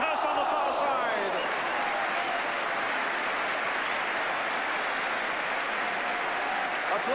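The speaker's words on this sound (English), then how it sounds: "Applause there for Devonshire." Crowd applause at a West Ham United First Division football match in 1983–84, a dense, steady roar of clapping from a large stadium crowd, loud and continuous, with commentary talk underneath.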